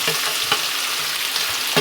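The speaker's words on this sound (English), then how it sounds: "let's give this a quick stir" A spoon stirs caramelized vegetables and chicken in a hot pan, making a steady loud frying hiss broken by several soft scraping knocks, with no talking.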